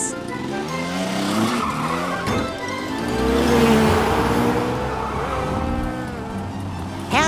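Cartoon car pulling away with loud, sustained tyre skidding and squealing over a revving engine, the screech rising and bending across several seconds before a brief burst at the end.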